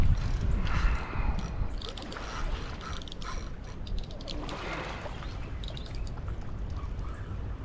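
A fishing reel clicks as a catfish rod goes off on a Mississippi River bank, a rapid rattling ratchet churning continuously, with faint outdoor ambience and a bird in the background.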